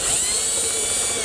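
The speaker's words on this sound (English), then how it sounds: "take a screwdriver and take some of those screws out of there" A screwdriver backs regular screws out of a painted metal bracket, giving a steady, loud whirring ratchet-like grind that runs without a break for just over a second.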